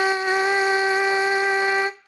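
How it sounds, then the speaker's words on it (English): A trumpet mouthpiece played alone buzzes one steady, bright pitch for about two seconds with an airy breath hiss mixed into the tone, then cuts off abruptly. "So your mouthpiece sound could sound like this."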